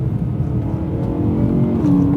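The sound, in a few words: BMW E9x M3 with Milltek V2 valved exhaust downshifting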